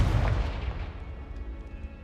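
Confringo spell explosion in Hogwarts Legacy, a loud deep boom that rumbles and slowly fades over about two seconds.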